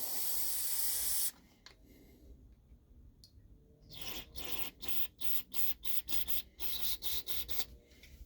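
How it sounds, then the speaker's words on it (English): Brake cleaner sprays into a small hole in a mower part, starting with one loud continuous hiss, then after a quiet pause a series of short, rapid bursts. "spray it with brake clean as well"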